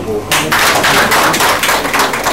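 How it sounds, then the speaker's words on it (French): A group of participants applauding during a workshop session, a dense burst of close clapping that starts abruptly and continues steadily for a couple of seconds without any voice. "Si c'est compris, on applaudit le groupe."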